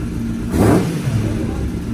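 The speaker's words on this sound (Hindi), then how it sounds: "तो भाई बाइक स्टार्ट हो चुकी है" Kawasaki Ninja ZX-10R sport motorcycle engine, just delivered, revs briefly at close range, swelling into a short burst and then settling back to a steady idle.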